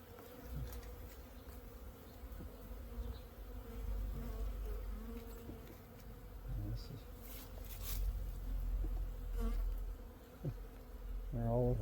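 Honeybees buzz densely around an open backyard hive during a frame inspection, a loud steady drone with individual bees zipping close past now and then.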